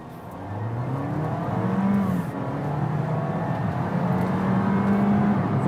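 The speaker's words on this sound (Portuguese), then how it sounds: "Interessante que você percebe a hora que o turbo entra, ó, já foi" A Fiat Fastback turbo car accelerating hard from 0 to 100 km/h, the engine droning steadily and loudly from inside the cabin with rising tone as the turbo comes in, no talking.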